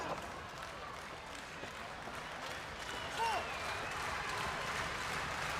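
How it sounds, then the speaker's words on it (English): Large wrestling crowd in the Albany, Georgia Civic Center at a 1992 event, a steady wash of cheering and applause that swells slightly midway, fairly distant and continuous. "Tremendous crowd on hand, really getting in with it."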